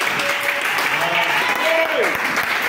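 A church congregation applauding, a dense sustained wash of clapping that stays loud and even from start to end, with voices calling out over it.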